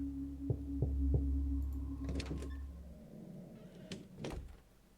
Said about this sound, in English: Someone's knocking on my door.